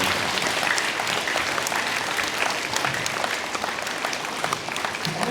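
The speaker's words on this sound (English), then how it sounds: "So students, give yourselves a round of applause for everything you did today" Students at a school Memorial Day assembly applaud themselves, a steady wash of many hands clapping throughout, moderately loud with a few faint voices mixed in.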